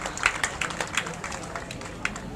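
Audience applause at a Sukkur IBA University convocation ceremony for a gold medalist, a scattered, moderate clapping texture with individual claps standing out, steady and fairly close throughout.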